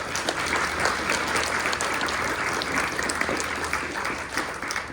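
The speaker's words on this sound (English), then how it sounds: "So applause to our teacher candidates." Dense, sustained applause fills the room at a teacher preparation pinning ceremony, many hands clapping at once, steady and loud throughout with no pauses.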